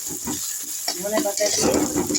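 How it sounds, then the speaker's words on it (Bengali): Onions fry in oil with nigella seeds and coriander leaves in a kadai, a close, steady sizzle with stirring, and a voice talking over the latter half. "পেঁয়াজটা ভাজা ভাজা হয়ে এসছে।"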